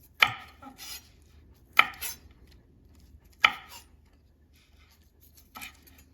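Knife roughly chopping fresh mint and Thai basil leaves on a board, four sharp separate chops spaced over a few seconds, close and clear with quiet gaps between.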